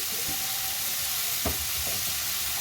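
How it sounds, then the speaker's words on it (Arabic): Food with spices being stir-fried in a pan gives a dense, steady sizzle throughout, with a few soft stirring scrapes and thumps close by. "يلا شوحي كده وحطي الايه؟ البهارات بتاعتك اللي تدي اكلك شمخه"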